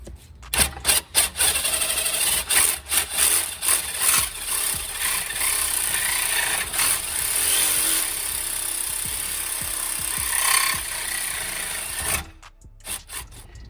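A compact power saw cuts through the exhaust pipe on a BMW 335i, buzzing loud and close with stuttering starts before settling into a steady grinding cut. It stops near the end with a few short bursts after.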